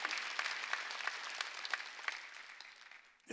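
Church congregation at a Wednesday worship service claps together in a dense, even patter that fills the room, then fades toward the end.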